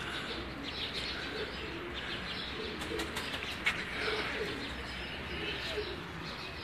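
A pigeon coos faintly amid open-air background noise at a pigeon-flying gathering, with a few soft chirps and wing flutters mixed in.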